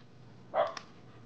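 A single short dog bark rings out against a quiet background, followed by a faint second yip, fairly distant and brief.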